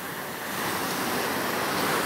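Strong ocean surf roars steadily along the coast at Tesajera, where heavy swells threaten nearby houses, making a dense, continuous wash of breaking waves with no voices.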